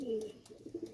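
Pakistani pigeons, including a teddy, coo softly nearby, a low rolling call followed by a few short throaty pulses, faint and without talk.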